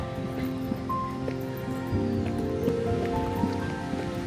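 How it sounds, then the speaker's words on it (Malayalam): A mountain stream flowing somewhere below an alpine village in Alpbach, Austria, heard as a steady, broad rushing wash at moderate level, with faint tonal background sounds layered over it. "ഒരു തോടെങ്ങാണ്ട് ഒഴുകുന്നുണ്ട് താഴെക്കൂടെ. അതിൻ്റെ ഒച്ച കേൾക്കാം."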